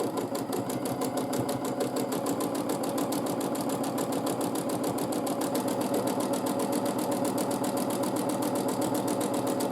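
A sewing machine runs steadily during free-motion quilting without a stitch regulator, a continuous rapid mechanical whir with a fast even needle rhythm, close and moderately loud throughout, with no talking.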